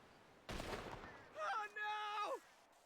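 A single crisp volley of rifle fire from a funeral salute at a procession in a video game, a sharp burst that fades quickly, followed by a sustained tonal sound.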